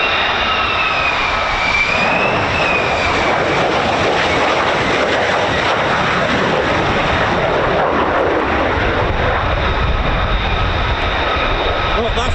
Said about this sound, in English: It's like a carousel with F-35s.